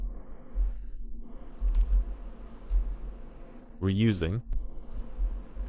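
A computer keyboard is used to type the material name, stainless steel, while setting up the xTool F2 Ultra laser engraver. Soft, scattered key clicks sound close by, with a brief spoken phrase partway through.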